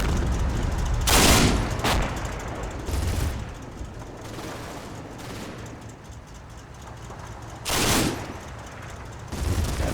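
Bursts of MG34 machine gun fire from the wartime strategy game Combat Mission Red Thunder, with two loud sustained bursts plus shorter volleys over a steady low rumble of battle ambience.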